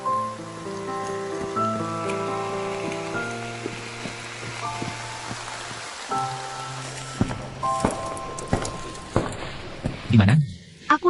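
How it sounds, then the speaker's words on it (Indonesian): Heavy rain falls outside as a steady wash of noise beneath prominent background music, with some speech-like sounds and a few brief knocks toward the end. "Hujan deras banget di luar."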